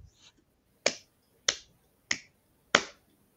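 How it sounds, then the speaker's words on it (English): Four slow, evenly spaced single hand claps ring out close and dry, a sarcastic slow golf clap with short pauses between each crisp smack. "slow golf clap."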